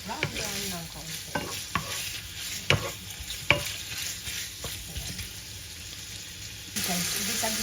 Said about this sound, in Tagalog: Guys, gisa-gisa lang natin hanggang mag-brown.